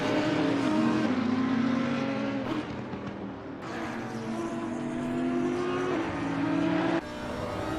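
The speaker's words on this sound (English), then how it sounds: "It's a very good sound, is the sound of the Porsche." A Porsche race car at the Snetterton circuit during a Tuesday night race series, its engine a loud, continuous roaring drone that swells and shifts pitch as cars pass, with no voices.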